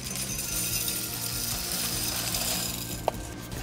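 Coarse masa grit pours steadily into a plant pot lined with mesh, a continuous dense gritty rattling hiss with one sharp tick near the end.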